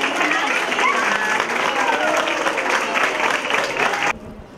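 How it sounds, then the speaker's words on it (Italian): A crowd at a school reopening ceremony in Casagiove claps in a thick, sustained burst of applause, with voices mixed in beneath, then cuts off sharply near the end. "quindi facciamo tutti quanti un bel applauso."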